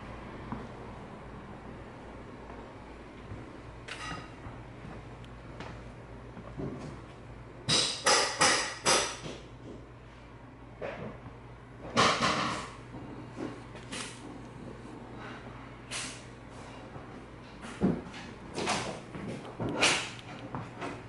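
Wooden trim being pried off the walls of a house during a renovation, heard as intermittent cracks, knocks and creaks in separate bursts against a quiet room background.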